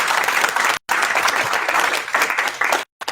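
Audience applause for an event's organizing team at a community business gathering, steady dense clapping broken by two brief dropouts.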